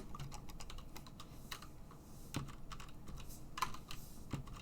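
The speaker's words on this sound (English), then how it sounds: "And then I shuffle them." A pile of trading cards is shuffled by hand, giving quick, dense riffling and tapping clicks that run throughout at close range without speech.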